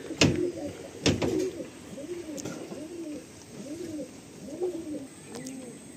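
Madrasi pigeons in a loft give soft, repeated rolling coos in a steady rhythm, close and clear, with a couple of louder knocks or flutters near the start and little talk.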